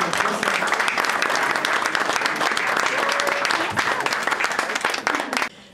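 A media gathering audience gives loud, dense applause as a guest joins the stage, clapping sustained and close before cutting off abruptly near the end.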